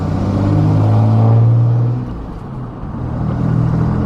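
A diesel vehicle accelerates on the road. A loud, close engine rumble with a rising drone eases off briefly midway, then builds again. No talking.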